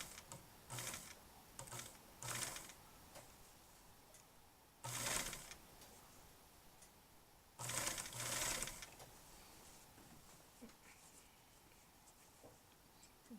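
A sewing machine runs in several short bursts of stitching along a pant hem, its rapid mechanical whir starting and stopping, with quiet pauses between runs.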